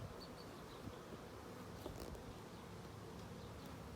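Honey bees buzz around an open hive during a 35-day inspection, a steady, fairly faint swarm hum that holds throughout with no voices.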